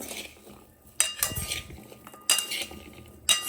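Utensils clinking against a bowl while ginger pickle is mixed: four bright, sharp clinks spaced about a second apart, with soft stirring and scraping between them.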